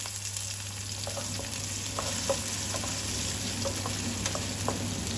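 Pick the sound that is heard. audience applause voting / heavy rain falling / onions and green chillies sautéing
onions and green chillies sautéing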